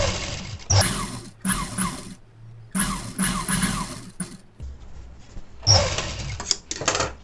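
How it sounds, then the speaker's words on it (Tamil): A sewing machine stitches the lining seam of a blouse in short, whirring bursts with brief pauses and small mechanical clicks between runs, moderately quiet and close. "இப்போ நான் வந்து இப்படியே தச்சிக்கிறேன்"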